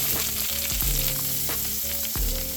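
Scallops sear in a hot pan of butter and oil with a steady close sizzle, interrupted by a few soft clicks and shifts as they are moved around.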